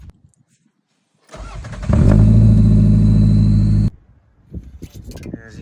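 A car engine cranks and catches after an oil change, then idles steadily and loudly for a couple of seconds before shutting off, with faint voices and handling noises around it.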